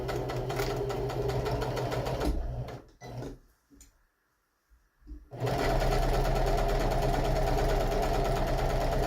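A sewing machine runs a simple flat stitch seam with a loud, fast, rattling whir. It stops for about two seconds midway, leaving near silence, then starts up again at full speed.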